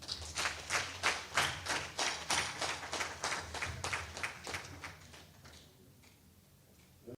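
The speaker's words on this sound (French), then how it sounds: "Merci d'applaudir pour vous-même." Audience members clap for themselves at a gathering in Cotonou: a quiet, evenly paced run of claps that slowly thins and fades away.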